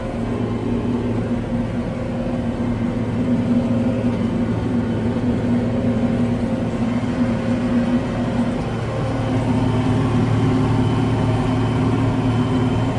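A tractor bush hogging with a bat wing cutter labors in thick mud, its engine droning in a steady, strained low hum that holds throughout with no voices.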